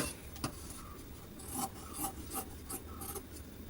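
Slightly blunt scissors snip through fabric while a shape is cut out, giving a series of short raspy strokes at a steady working pace, fairly close and moderately quiet over a low background hum.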